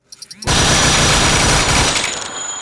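Automatic gunfire in a video game: a few quick single pops, then a dense, loud, continuous burst of rapid fire that slowly tapers.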